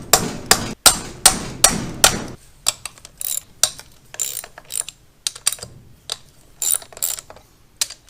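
Cylinder head bolts on a Yamaha quad engine are loosened with a hand ratchet. Rapid clicking bursts repeat in a steady rhythm, close and fairly loud, with brief pauses between strokes.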